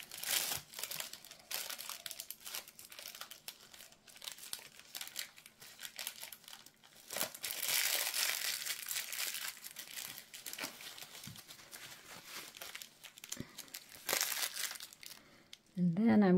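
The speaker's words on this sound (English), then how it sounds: "And I'm getting my piping bag." Plastic piping bag handled close by, intermittent crinkling and rustling in irregular bursts, fairly quiet, with a brief voice at the very end.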